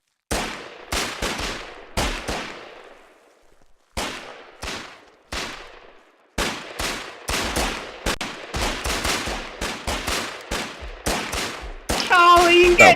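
Gunfire in the war game Foxhole, sharp shots cracking out singly and in quick bursts with brief pauses between, loud and close, ending in a denser volley.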